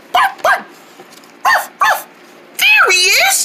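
A human voice imitates a dog barking: four short, sharp barks in two pairs, followed by a longer, drawn-out howling bark, loud and close with nothing else behind it.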